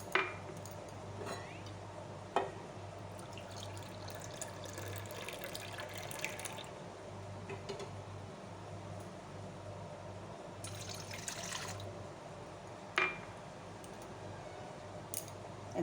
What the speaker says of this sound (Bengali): আমি এখানে দু কাপ দুধ দিয়ে দেবো মোদকের জন্য